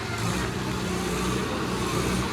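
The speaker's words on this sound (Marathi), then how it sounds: "ट्रॅक्टरचे पण पावर संपले." Tractor engines straining to haul a heavy load at a rainy dahi handi festival in Maharashtra, a steady low rumble and drone running unbroken and fairly loud throughout.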